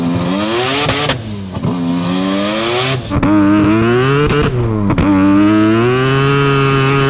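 Twin-turbo Mazda RX-7 FC rotary engine revs hard and loud close by, its rising and falling pitch sweeping in repeated blips before settling into a sustained high-rpm drone.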